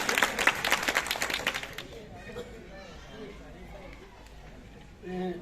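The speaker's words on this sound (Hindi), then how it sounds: "एक बार जोरदार तालियां कोटेदार जी के लिए।" Audience at a Constitution Day legal rights awareness programme applauds: dense, fairly loud clapping for about two seconds before it gives way to someone speaking over quiet room noise.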